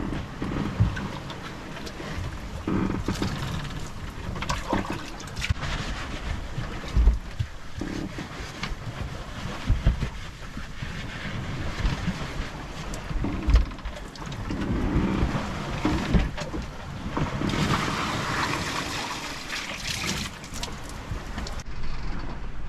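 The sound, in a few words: sailing yacht pounding into waves in wind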